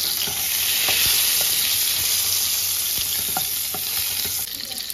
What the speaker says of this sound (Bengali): পটলগুলো হালকা করে ভেজে নেব।